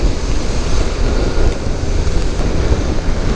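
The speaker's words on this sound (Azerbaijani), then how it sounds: "Sadəcə külək var." Strong wind buffeting the microphone outdoors during a rainy motorcycle ride, a continuous roaring rumble that stays loud and steady throughout with no voices.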